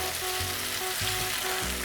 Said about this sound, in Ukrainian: Смажимо цибулю до золотистості.